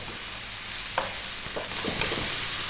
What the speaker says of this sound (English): We're going to go for about another 3 or 4 minutes on this fairly vibrant heat, and again stirring fairly often.